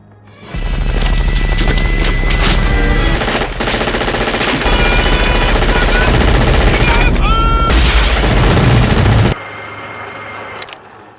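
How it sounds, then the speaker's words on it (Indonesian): Sustained automatic gunfire from the Predator film, many weapons firing into bushes in a long continuous fusillade of rapid cracks, loud and dense for several seconds before stopping abruptly. "Kemudian menembaki ke arah semak-semak, lalu disusul yang lainnya hingga tempat itu rata."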